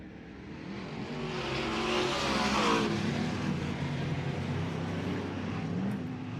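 A pack of race cars at Southern Oregon Speedway roars as it accelerates out of turn 4 on a restart. The broad engine roar swells loud, peaks, then holds as a steady blended drone with no voices.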